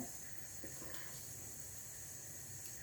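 A steady, soft hiss and sizzle of lemon-apple pancake batter frying in hot oil runs unbroken throughout, fairly faint with no voices.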